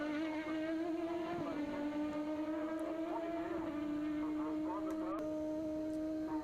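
Formula BOSS race cars run through a chicane at a Leinster Trophy round in Ireland, their engines holding a steady, droning note that shifts pitch as they brake and accelerate, with a commentator talking over the top throughout.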